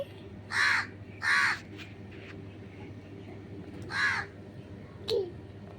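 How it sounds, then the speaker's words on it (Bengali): A crow caws several times, two harsh calls close together, then another after a pause and a shorter one, over a low steady background hum. "কাক ডাকছে"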